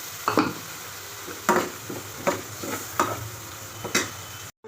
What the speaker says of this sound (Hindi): अब इसमें टमाटर ऐड कर देंगे।